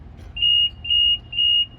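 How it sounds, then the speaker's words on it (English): Three electronic beeps from a lift control at an even pace, signalling the lift is level, each a steady high tone lasting about a quarter second, with a low rumble underneath. "beeps 3 times and it's level"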